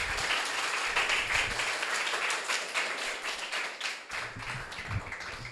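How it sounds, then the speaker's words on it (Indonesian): A school expo audience claps for two teachers, producing dense, sustained applause that stays loud and even throughout, with a few sharper individual claps standing out near the end. "Pak Edi pengen dengar tepuk tangan paling meriah untuk Bu Yani dan Bu Sondang"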